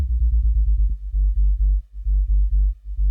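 A deep, dirty sub bass synth in an EDM drop plays alone as a run of short, rhythmic low notes, with brief gaps between phrases.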